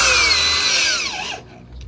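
Power drill driving screws into deck boards on a home deck build in Austin, Texas, one loud continuous whirring run that winds down as the trigger is released, then near silence.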